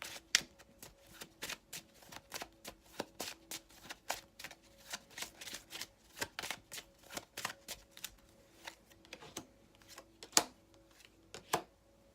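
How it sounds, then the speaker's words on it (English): Tarot cards being shuffled and handled up close, a steady run of crisp riffling clicks and slaps with a few louder snaps, no talking. "Let me actually pull out 3 cards for that."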